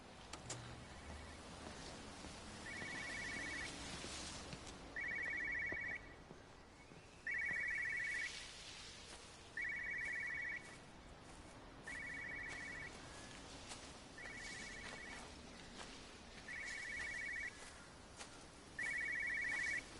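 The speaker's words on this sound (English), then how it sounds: "Somebody's cell phone ringing." A cell phone rings in the video game Everyone's Gone to the Rapture, a repeating electronic trill in evenly spaced bursts about every two and a half seconds, standing out over a low ambient bed with no talk.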